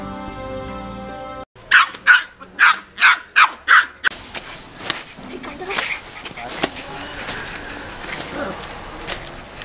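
A puppy yelps in a rapid run of about six sharp, loud cries, followed by scattered fainter whimpers and thin noise, with no talk over it.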